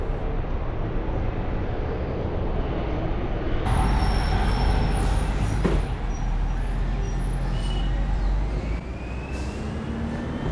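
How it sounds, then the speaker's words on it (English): An electric bus passing along a busy Delhi street, a steady whirring drive with a faint rising electric whine over dense road traffic, louder and nearer for a few seconds mid-pass, then easing back into the traffic roar. "So that bus sounds a little bit like an electric bus."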